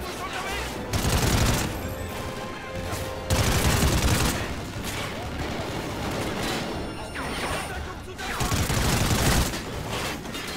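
Repeated bursts of gunfire in the video game Call of Duty: Ghosts during a campaign mission, loud volleys alternating with short lulls, with someone talking over the action.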